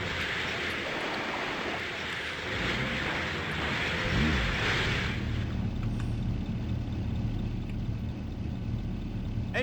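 A truck engine runs in the wartime strategy game Sudden Strike Forever, set in Stalingrad: a steady low rumble, with a brief surge and a hissing wash in the first half before the idle settles.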